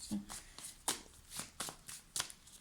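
Oracle cards shuffled for an angel card reading, a series of soft, quick riffling swishes and taps close by, repeating in an uneven rhythm at low volume.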